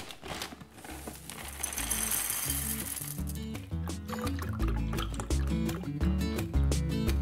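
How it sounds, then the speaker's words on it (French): Milk pours into a bowl of cereal, a soft liquid trickle with faint crinkling near the start, heard close under a steady layer of background music. "Je vais prendre un bol de lait avec des céréales."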